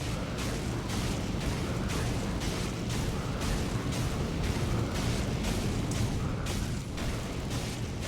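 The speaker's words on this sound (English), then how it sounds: "explosion ASMR" Explosions rumble continuously in the video game Elden Ring with the Convergence mod, a dense, loud barrage of booming bursts arriving in a rapid pulsing rhythm with no talking.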